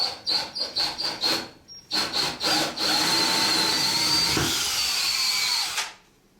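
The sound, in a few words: power drill drilling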